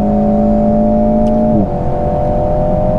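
An Alpine A110 sports car on a race circuit during the Rallye de Paris 2020 drones loudly with a steady engine tone, then drops pitch abruptly mid-clip as it shifts gear and keeps pulling hard.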